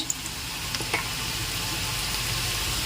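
A tablespoon of ginger garlic paste lands in frying onions for an egg curry, giving a faint, steady sizzle with a few small clicks and pops near the start.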